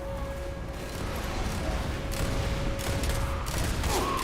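Tank cannon fired in Team Fortress 2, a dense burst of booming shots and mechanical clatter in a steady loud game soundscape, with no talk.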